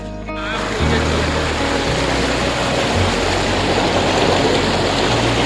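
Water overflowing from a village tank near Rameswaram hill rushes across a road in a steady, loud, continuous roar with broadband splashing throughout, a low hum running underneath.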